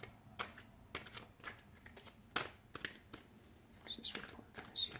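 Tarot cards are shuffled close by and quietly, in a run of soft riffling flicks and taps with a few small clicks.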